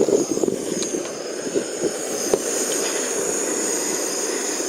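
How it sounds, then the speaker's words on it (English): Jetboil camping stove burner roaring with a steady, jet-like hiss that holds throughout, with scattered clicks and light handling knocks near the start. "Call it the Jetboil because it sounds like a jet"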